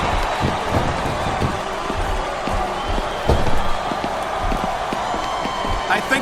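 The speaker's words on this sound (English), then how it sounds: "This capacity crowd is making their opinions known tonight." An arena crowd in WWE Smackdown vs Raw 2007 roars in a steady, dense wash of cheering, with thuds and slams from the ring breaking through and commentary voices talking over it.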